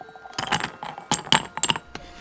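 Several small dice drop and clatter into a container in quick bursts, bright clicks and rattles bunched together near the microphone, with brief pauses between handfuls.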